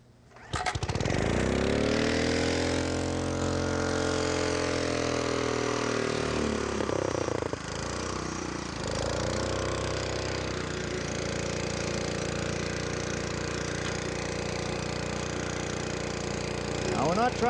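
A rototiller engine starts up and runs loud and steady at close range while the machine works across a lawn for rough grading, with a brief dip in the drone partway through.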